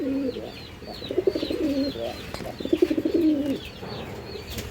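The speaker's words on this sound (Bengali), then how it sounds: "ভাই এটা হলো চাইনিজ আউল কবুতর" Chinese Owl pigeons cooing up close, repeated low throaty bubbling coos in two main bursts with softer calls around them, no talking.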